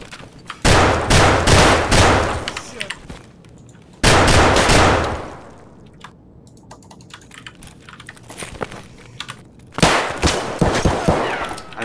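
Gunfire in Escape from Tarkov on the Factory map, loud bursts of rapid automatic fire in several volleys separated by quieter pauses, with no one talking.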